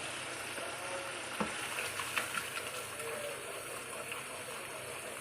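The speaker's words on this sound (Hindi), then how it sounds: "मैं ये पेस्ट को फ्राई कर रही हूँ।" Spice paste with turmeric, red chilli and crushed chilli frying in a pan for mash ki daal, a steady broadband sizzle throughout with a few brief stirring clicks, close and moderately loud, no talking.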